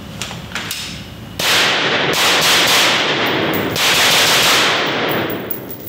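Rapid bursts of suppressed gunfire from an 11-inch-barrel 5.56 rifle fitted with a SureFire WARCOMP, sharp cracking reports in quick strings, loud and close, outdoors with no talking.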